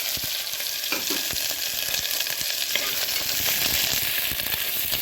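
Small shallots and green chilies sauté in hot oil for kootanchoru, a continuous close sizzle broken by frequent spatula clicks and scrapes as the pan is stirred, with no speech.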